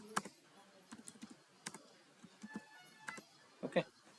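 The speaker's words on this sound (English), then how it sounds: "Here I am typing some code." Computer keyboard keys clicking in short scattered bursts while someone types source code, close and fairly quiet, with pauses between clusters of keystrokes and a faint room hum underneath.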